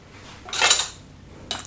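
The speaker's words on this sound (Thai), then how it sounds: "เดี๋ยวตักใส่จาน" Metal utensil scraping and clinking against a pot and plate as a thick pork belly and bamboo shoot stew is scooped out, one longer scrape followed by a short clack, close by with no talking.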